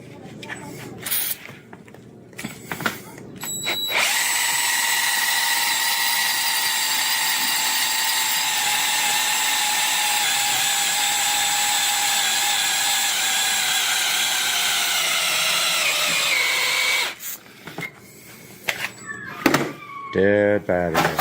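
A cordless power drill whirs steadily at high speed for several seconds, slowing slightly before stopping as its battery dies, with rattling handling noises and voices before and after.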